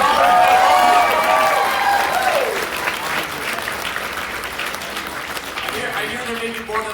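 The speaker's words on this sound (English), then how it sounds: "Give a huge round of applause to the tech running the show today." A convention crowd at an anime event applauds the tech crew, loud sustained clapping and cheering from many people, with brief voices and tones ringing out at the start before the clapping fills the space.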